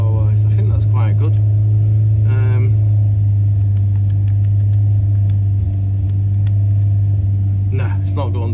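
A race car engine runs steadily on a dyno, a loud constant low drone throughout with occasional rumbles, while voices talk over it.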